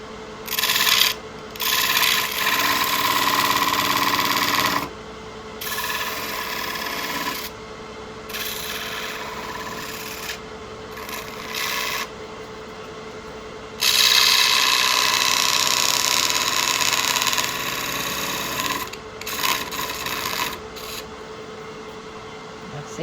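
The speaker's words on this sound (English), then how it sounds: "I am going to try to burn these grooves." A thin Formica card is pressed against a spinning oak piece on a lathe to burn its grooves, making loud rasping friction in repeated bursts of several seconds over a steady motor hum, with short quiet breaks between.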